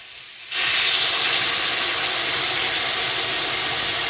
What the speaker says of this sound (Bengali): কষানো আমাদের হয়ে গেছে এবার দিয়ে দেবো জল